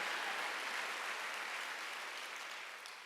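A church congregation claps together during a Wednesday worship service, a steady dense wash of many hands that fades slightly toward the end, with no voices over it.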